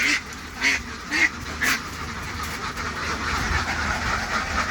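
Ducks on a rural farm quack in a short run of four close, nasal calls, followed by a steady low background rumble, with no speech.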